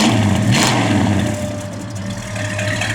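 A 1969 Plymouth GTX engine runs with a continuous low rumble, close and fairly loud, holding steady with a slight swell early on and no talk over it.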